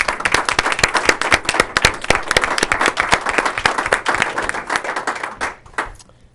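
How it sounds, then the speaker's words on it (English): At a school board of education meeting, a modest room of people gives a round of applause for new commissioners, with distinct, fairly close hand claps forming an uneven patter that fades out near the end. "Just a round of applause to acknowledge them"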